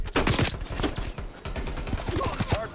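Rapid automatic gunfire from the video game Call of Duty Black Ops Cold War rattles in dense, close bursts throughout, loud and continuous with little pause.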